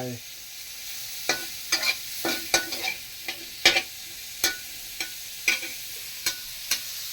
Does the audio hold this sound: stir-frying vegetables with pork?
yes